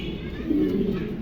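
Large pigeons at a pigeon sale coo in soft, low, warbling murmurs, rising slightly in the middle of a steady, close, moderately quiet stretch.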